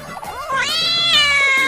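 A kitten meows loudly and close, one long drawn-out rising and wavering cry that carries through to the end with no talking.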